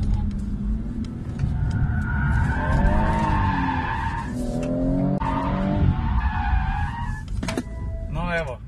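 A BMW M240i with an inline engine skids hard with its tires smoking, producing loud, wavering tire squeals over a roaring engine, with repeated slides and a final sharp screech.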